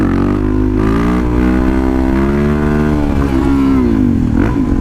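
A Suzuki DRZ400 motorcycle engine revs hard during a wheelie. The mid-pitched drone is loud and continuous, rising and falling slightly in pitch, with no voices over it.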